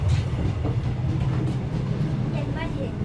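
The Ekspres Rakyat Timuran train runs on rails in Malaysia, a steady loud low rumble with rattling from the carriage, heard from inside a regular-class coach, with faint voices mixed in.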